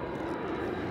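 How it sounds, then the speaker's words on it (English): Steady engine drone of an airplane passing over near an airport, a continuous low rumbling roar heard alone. "one of the downsides of living by an airport is you got to compete with the airplane's noise sometimes"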